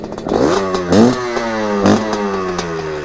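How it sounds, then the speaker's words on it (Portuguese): A MXF 250 TSX dirt bike engine fires up nearby and revs in a few sharp bursts, then settles into a rough, steady idle. "Deixa eu até ligar a moto aqui, ó."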